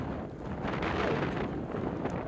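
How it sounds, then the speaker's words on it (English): Strong wind buffets the microphone in a continuous, loud, low rumbling roar that blows steadily throughout. "Strong wind warning."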